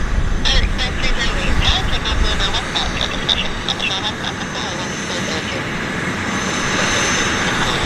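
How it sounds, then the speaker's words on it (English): Plane taking off at Vancouver airport, its engines roaring loud and steady with a broad rumble that gradually eases, while people talk over it. "this guy's been cleared for takeoff"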